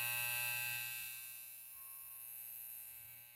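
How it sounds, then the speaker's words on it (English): A Richard Supreme hair trimmer runs close up, a steady electric buzz with a bright high whine and a low motor hum, fading slightly partway through before holding even. "Sound of the Richard Supreme Trimmer."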